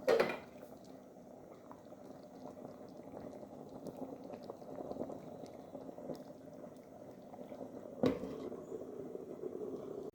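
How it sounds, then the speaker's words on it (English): Jamaican fish tea simmers in a covered pot, giving a steady, soft bubbling and gurgling that runs evenly throughout, with a brief louder clatter at the start and another near the end. "So we're gonna cover this and leave this to simmer."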